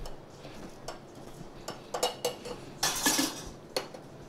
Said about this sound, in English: I'm gonna muddle it.